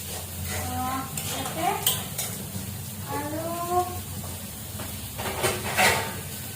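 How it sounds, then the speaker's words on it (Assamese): Tomato masala gravy bubbles in oil in a pan, with a low steady sizzle under repeated scraping stir strokes and light utensil clinks. "বিলাহী চাৰ উতলি আছে ধুনীয়াকে তেলবিলাক ওপৰত বিৰিঙি উঠিছে"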